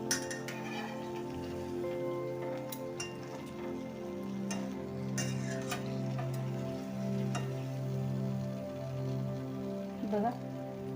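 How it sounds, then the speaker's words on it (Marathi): Sweet kadakani flatbread fries in hot oil in a home kitchen, giving a soft, continuous sizzle with scattered crackles and occasional utensil clinks. A steady low hum runs underneath the frying. "कमी जास्त गॅस करतच हे भाजून तळून घ्यायचंय"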